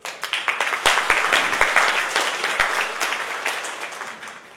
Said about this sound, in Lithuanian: Tikimės jūsų šypsenų ir palaikymo gausiais aplodismentais.